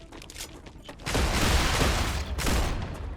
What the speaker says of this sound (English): He's sniping me again